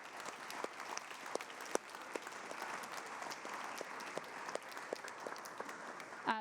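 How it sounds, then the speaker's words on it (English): Applause from a school band concert audience, a soft, steady spread of many hands clapping at some distance, with a few sharper nearby claps standing out and no voices over it. "So let's have a big round of applause for those two."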